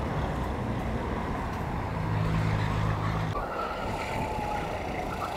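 Go-karts racing fast around an outdoor track, a continuous loud engine drone with a rising pitched whine from a kart passing near, then fading into broader roadway-like noise.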